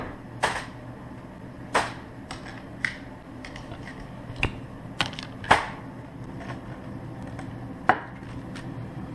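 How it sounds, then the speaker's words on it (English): A knife chops through a cube of butter on a cutting board for pork belly candy, giving eight or so sharp, separate taps at an uneven pace, close and clear with no talk. "but we're going to cut up the butter."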